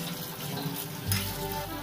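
Chopped banana flower pieces being washed, with water running and splashing steadily in a sink at close range.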